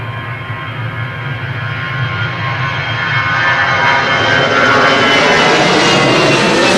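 An airliner taking off from Manchester Airport in a crosswind, its engine roar loud and close, building steadily in strength with a rising whine on top, with no talking.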